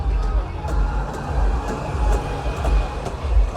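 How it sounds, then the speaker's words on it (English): A small park ride train rumbles past close by with rhythmic wheel clicks over the rails, steady and fairly loud. "oh, there's a train here."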